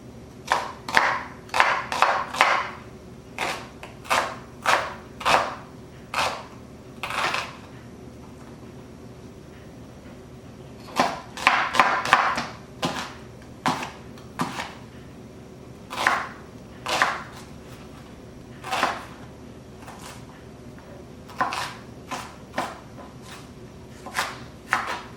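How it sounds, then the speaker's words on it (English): Knife dicing an onion for cabbage rolls in a home kitchen, a series of sharp, close chopping taps on a board in quick bursts with short pauses between, no talk. "So now that my onion is diced, I'll place it off to the side."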